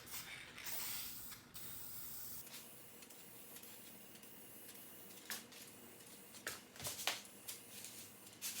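Wrinkle Plus paint sprays onto an engine part in faint, quiet bursts, a soft hiss followed by short separate spritzes with gaps between them.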